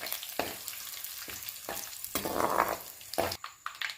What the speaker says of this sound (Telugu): ఒకసారి మొత్తం కలుపుకుందాం.